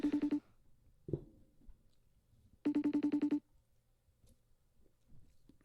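A phone rings unanswered: a short burst of rapid electronic trill tones, a pause with a faint click, then a longer burst of the same trill before silence returns.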